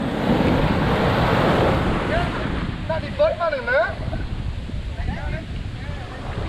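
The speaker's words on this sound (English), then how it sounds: "Look at these waves." Ocean waves wash in broad, steady rushes, close and loud, with heavy wind buffeting the microphone after a morning fishing trip out on the water; voices talk briefly partway through.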